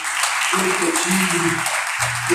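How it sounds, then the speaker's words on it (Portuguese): Church congregation applauding during a sermon, a continuous broadband patter of clapping heard beneath a sustained voice throughout the short stretch. "Você pode aplaudir ao nome do Senhor."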